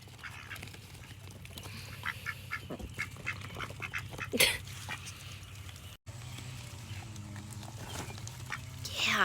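Ducks foraging for bugs in the rain quack in short bursts, fairly close, over steady rainfall, with a person speaking softly now and then.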